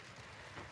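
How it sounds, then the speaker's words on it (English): Soft, steady patter of light rain at a wilderness campsite, a faint continuous hiss with no distinct drops standing out and nothing else audible. "It's raining a little bit."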